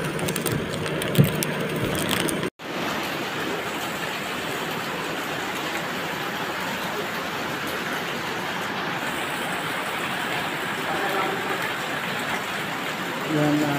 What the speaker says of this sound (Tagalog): Pagbuhos pa rin ng ulan.